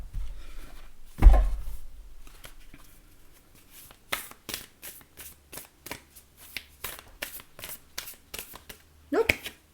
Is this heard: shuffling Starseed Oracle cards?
yes